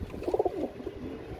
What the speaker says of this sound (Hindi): हाइट के कबूतर हैं, बड़े बड़े साइज़ के, ओवर साइज़ के